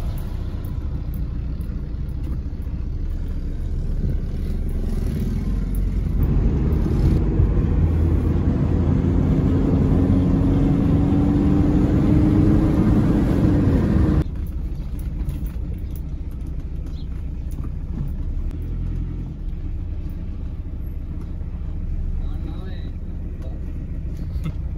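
A Toyota Corolla Indus drives with its engine running, a steady low rumble that swells louder in the middle section before easing back, with road noise throughout and a voice talking over it.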